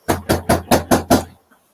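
Six loud knocks in quick, even succession, sharp and close, then silence.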